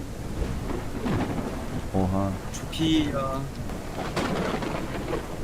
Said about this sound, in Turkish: Gök gürültü sesi.